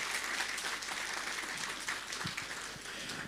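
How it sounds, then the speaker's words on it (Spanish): A church congregation at a Sunday service claps loudly and steadily for a singing group, a dense uninterrupted wash of many hands with no talk over it. "vamos a dar fuertes aplausos"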